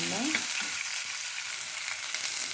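Onions sizzling in hot oil, a bright continuous crackling hiss, with a brief low tonal sound at the very start.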